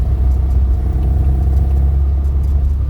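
A restored, daily-driven classic Mini drives along the road, its small engine giving a steady, loud, close rumble with no voices.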